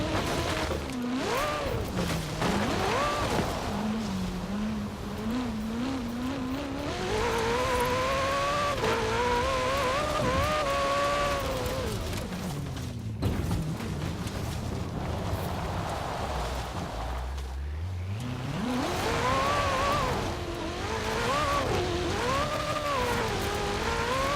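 A racing-game car in Forza Horizon 4 is driven off-road, with an engine that rises and falls in pitch through repeated revs and gear changes. It roars steadily with gritty surface noise, and a brief dip comes near the middle.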